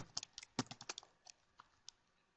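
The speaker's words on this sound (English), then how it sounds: "I can type anything in here" Quick, soft clicking of keys on a computer keyboard, an uneven burst of several taps that trails off into a few sparse presses, close and quiet.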